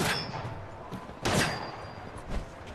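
Gunshots ring out in Fallout 4's Far Harbor area, with several loud, echoing reports spaced roughly a second apart, each followed by a reverberant tail.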